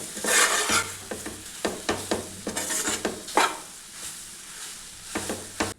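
Banana and jaggery are sautéed in a pan over a slow flame, with repeated scraping stir strokes against the metal under a soft sizzle, close and moderately loud.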